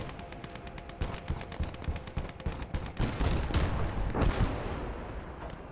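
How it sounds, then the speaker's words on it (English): Machine gun fire from a German MG in the Gates of Hell World War II strategy game, rapid bursts of shots with heavier booms from artillery and explosions swelling midway through a loud battle in a Soviet village. "The MG is definitely still working."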